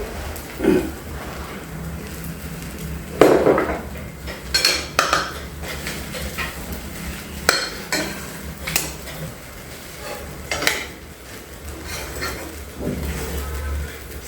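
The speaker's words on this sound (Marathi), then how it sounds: "सारखी परतत राहायचं आणि बारीक गॅसवर खिचडी परतायची." A spoon scrapes and clinks against a pan as upvas khichdi is stirred and sautéed in ghee over a low flame. The metallic taps come close and irregular, with a soft sizzling hiss beneath.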